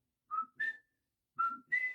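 A person whistles the opening notes of The Great Escape theme, two short melodic phrases separated by a pause, clear and close with no other sound.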